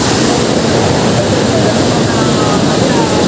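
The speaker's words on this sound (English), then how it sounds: "Here, we are going to follow the flow of the waterfall." Rushing water at Datanla waterfall forms a loud, steady wash of broadband noise that fills the whole stretch without pause.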